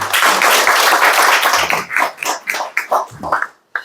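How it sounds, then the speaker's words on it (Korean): An audience at a book concert claps after a recitation, a brisk burst of applause that thins into scattered individual claps over a few seconds. "다시 한번 큰 박수 부탁드립니다"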